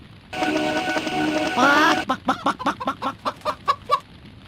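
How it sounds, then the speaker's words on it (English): Chickens cluck loudly in the video game MediEvil in a quick series of short, rhythmic calls, following a longer squawking cry near the start. "And then you hear more chickens barking"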